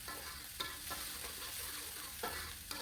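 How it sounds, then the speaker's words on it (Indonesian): A spice paste of ground shallot, garlic and dried shrimp sizzles steadily in hot oil in a pan, with soft scraping stirs at intervals, close up and with no talk. "Ditumis dulu bumbu ini sampai matang, sampai tercium aroma yang wangi banget."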